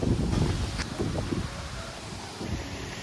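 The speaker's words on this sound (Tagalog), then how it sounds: "sobrang sobrang lakas ng hangin dito" Strong wind roars and buffets steadily, with rushing gusts and rustling close to the microphone.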